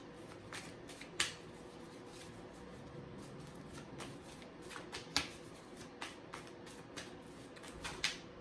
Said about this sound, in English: I'm going to pull a couple cards and see what this energy is going to look like for this full moon